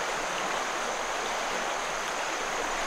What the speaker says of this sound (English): sometimes our minds get fooled by, like, the noise of the water